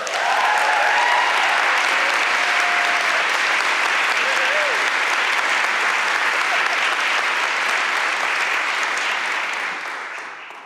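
A large audience at a panel event breaks into loud, sustained applause that holds steady for about ten seconds before fading slightly at the end.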